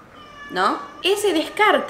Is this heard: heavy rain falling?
no